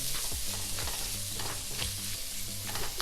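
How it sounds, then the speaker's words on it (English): Ginger and chunks of sea bass sizzle steadily in a hot pan while a utensil stirs them, giving a constant bright frying hiss with soft scraping strokes underneath, close and fairly quiet. "let's give this just a quick"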